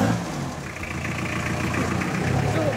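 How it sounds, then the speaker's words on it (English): A small Ford Ranger pickup with a diesel engine idles nearby, a steady, loud mechanical clatter and rumble that holds even throughout, with faint voices under it. "This is that little Ford Ranger I was talking about that's got the diesel engine."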